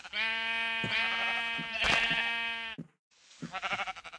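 Sheep in the Minecraft video game bleat in a run of several drawn-out, wavering calls, loud and close, followed by a short pause and a further burst of bleating, with no talk over them.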